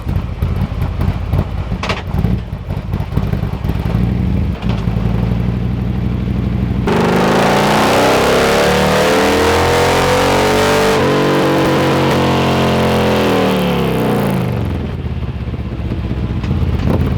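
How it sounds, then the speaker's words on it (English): Harley-Davidson Street Glide on a dyno with Khrome Werks exhaust inserts and no baffles, loud uncapped exhaust climbing through a long sustained rev sweep before dropping back to a rough idle. "First dyno run, no baffles."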